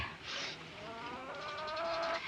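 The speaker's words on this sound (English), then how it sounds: "regretted buying these hens" Hens cluck softly over a couple of seconds, a faint, close farmyard sound with no voices.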